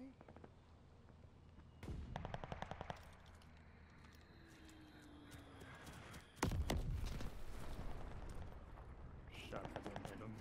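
Rapid bursts of gunfire from the Call of Duty Vanguard beta, loud and close, with fast repeated shots and a heavier blast partway through, mixed with game effects while a player talks over it.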